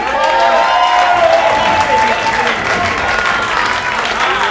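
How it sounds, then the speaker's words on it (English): Loud audience applause and cheering at a comedy bootcamp show at McCurdy's as a comedian takes the stage, a dense steady clapping wash filling the whole stretch with a few crowd voices mixed in. "Big round of applause for Bob Massaroni"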